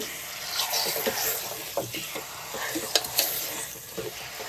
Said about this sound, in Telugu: మటన్ వేసేసుకొని మొత్తం బాగా కలపాలి